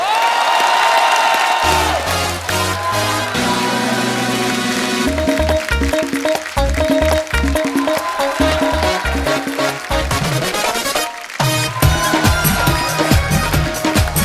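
Loud studio-audience applause and cheering on The Kapil Sharma Show welcoming a singer, with a crowd roar blended with music underneath and occasional whoops.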